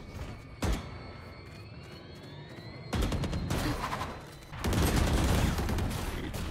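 Video game gunfire rings out in separate bursts: a single sharp shot, then a rapid volley and a longer sustained stream of shots, with a thin electronic whine under the quieter gaps.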